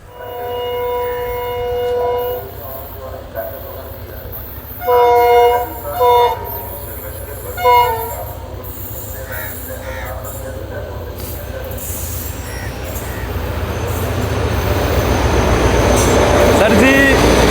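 An express train runs through a railway junction, horn blasts sounding repeatedly early on, then a steady rolling rumble of wheels on track that grows louder and nearer toward the end.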